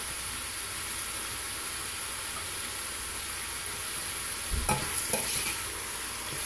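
Chili meat and onion cooking in a pan at medium heat, a steady soft hiss of sizzling with a brief clatter of stirring near the end.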